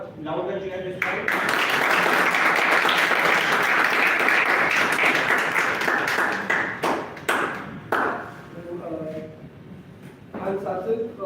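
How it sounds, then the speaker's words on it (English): Audience at a Toastmasters club meeting in Jaipur bursts into loud, sustained applause and cheering for about seven seconds, then the clapping thins into scattered claps as voices talk over it. "Can we all give him a louder cheer this time?"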